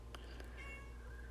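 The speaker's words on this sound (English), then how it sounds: "so I've got a cat in here talking to me now." A pet cat meows a few times indoors, short and fairly close, over a steady low hum, with no talking.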